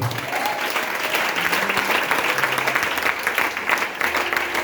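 Congregation clapping steadily in a church service, dense continuous applause filling the room throughout with no clear voices on top.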